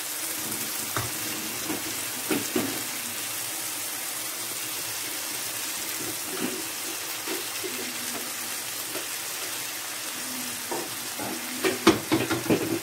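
Filling with olives being stirred in a frying pan, soft scraping strokes and a quiet steady sizzle, with a few louder clatters of the utensil toward the end.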